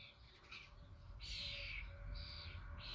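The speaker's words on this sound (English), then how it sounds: "Like that starling looks big enough to pick up its own food, but it's going to scream at its mum for ages" Starling chicks outdoors in the UK scream for food, repeating harsh, rasping begging calls in bursts of about half a second, fairly close over soft background noise.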